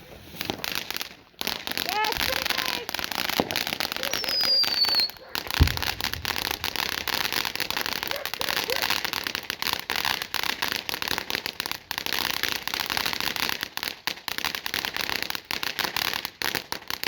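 A big fountain firework at a Fourth of July celebration sprays a steady dense crackle and fizz for many seconds, with a sharp pop near the start and faint voices in the background.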